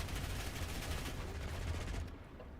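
Twin aircraft guns fire in a flight game, a continuous rumbling stream of rapid shots held steady for a couple of seconds before stopping.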